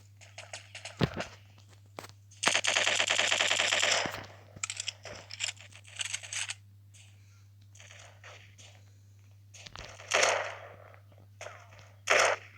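AK rifle fire in the blocky shooter game Block Strike comes as a sustained automatic burst, followed by scattered single shots, clicks and footsteps, with a quieter stretch before another sharp burst near the end.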